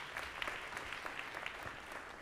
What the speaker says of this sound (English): Big round of applause for Georgia United.